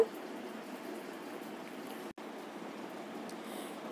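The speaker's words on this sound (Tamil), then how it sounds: "தண்ணி நல்லா கொதிக்கட்டும்" Water in a pan heats toward a boil for semiya kesari, giving a faint, steady bubbling hiss with a single brief break, close by and without talk.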